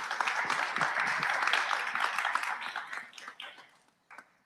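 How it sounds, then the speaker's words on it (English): Audience applause for a panel speaker at a World Cup salon, a dense burst of many hands clapping that thins out over a few seconds and trails into scattered claps. "Please give a round of applause for Laurent Dubois."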